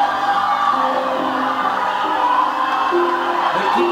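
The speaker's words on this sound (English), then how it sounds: "But people are cheering for him." A concert audience cheers and whoops for the singer at a Gegar Vaganza 5 show, a dense, steady roar of many voices filling the hall with scattered shouts rising above it.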